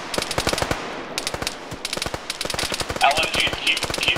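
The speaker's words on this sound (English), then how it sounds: "LMG, keep suppression." Light machine gun suppressive fire in the video game ArmA 3: rapid bursts of loud gunfire, rhythmic shots with brief pauses between bursts, close and sharp, with faint radio-like tones near the end.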